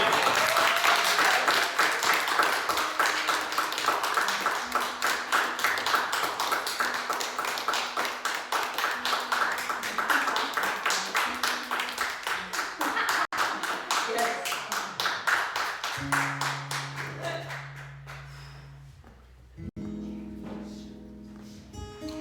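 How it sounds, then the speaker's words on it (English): A live audience claps after an indie folk song, a dense run of hand claps that stays steady, then thins out as the applause fades and a few guitar notes and low tones come in near the end. "Give another round of applause"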